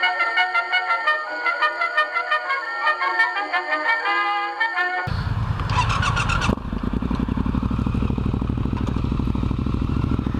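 Triumph Street Scrambler motorcycle engine and exhaust, loud and close, rumbling in steadily halfway through after an opening stretch of tonal music, then holding a gritty, throbbing roar to the end.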